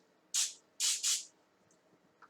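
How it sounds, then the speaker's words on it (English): Three quick hissing bursts of cooking spray into a measuring cup, the second and third close together, crisp and near in an otherwise quiet space. "I've got a 1 cup measure, and I'm going to give it a quick spray also"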